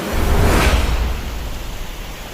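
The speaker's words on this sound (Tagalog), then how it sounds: "Ngayon yung falls kabila." A waterfall rushes as a loud, steady broadband roar with no talk, swelling briefly near the start and then holding even.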